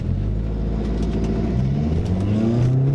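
A car pulls away from traffic lights, its engine rising in pitch as it accelerates, a close steady mid-range drone with climbing harmonics throughout.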